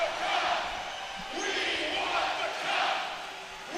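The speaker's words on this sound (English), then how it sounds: "Listen to this crowd." Crowd roaring and cheering at a National Lacrosse League finals game, Rochester Knighthawks at Saskatchewan, in an indoor arena: a loud, sustained wall of noise that swells in waves, with a commentator's voice faintly underneath.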